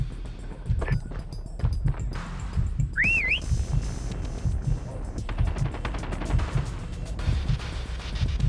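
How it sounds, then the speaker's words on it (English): A single rising and falling whistle sounds briefly during a Call of Duty: Mobile prop hunt match on the Crash map, against steady game ambience with scattered clicks and rumbles. "Next whistle in 10 seconds."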